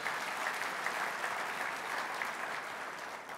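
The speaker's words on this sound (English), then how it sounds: "go ahead and applaud" Steady applause from an audience at a mayor's State of the City address in Oklahoma City, a dense sustained clapping that stays loud throughout.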